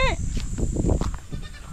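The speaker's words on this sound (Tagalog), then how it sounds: "Ayan, pwede nang palabasin yung mga kambing." Goats bleat repeatedly at close range, wavering cries overlapping one another with rustling ground noise beneath.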